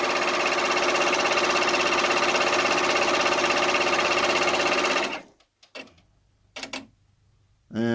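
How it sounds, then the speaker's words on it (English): A Brother BabyLock Venture embroidery machine stitches out an appliqué in a loud, steady, rapid needle chatter for about five seconds, then stops, leaving a few brief clicks and rattles. "So right now I'm doing the applique. So I'm going to go ahead and stitch out that."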